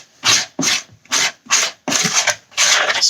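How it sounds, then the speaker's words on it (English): A spatula scraping cake batter off the sides and corners of a mixing bowl, six close rasping strokes in an uneven rhythm with short pauses between them. "Scraping it off your sides and the corners."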